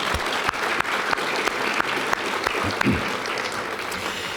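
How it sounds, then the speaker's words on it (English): An audience gives a warm round of applause to standing professors emeritus at the 2025 CEAAA awards presentation. The clapping is full and sustained, with a few sharper claps standing out from the dense, even roar. "Let's go ahead and have them stand, and we'll give them a nice round of applause"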